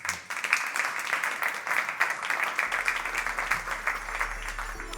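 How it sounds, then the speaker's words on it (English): An audience applauds steadily for about five seconds as a guest named Claus Sendlinger is welcomed at a talk on designing slow, the dense clapping continuous and fairly loud with no voices over it. "ladies and gentlemen, a warm applause for Claus Sendlinger"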